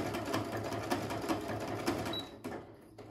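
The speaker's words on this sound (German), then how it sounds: "Also dann macht die Nähmaschine alles mit diesem Knopf. Also sie näht" A Brother Innov-is 100 sewing machine stitches steadily, its fast mechanical needle clatter running continuously at close range before a brief pause and restart.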